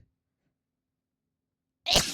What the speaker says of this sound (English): I had to do a second sneeze, but I lost it.